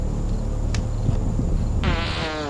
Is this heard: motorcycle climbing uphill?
no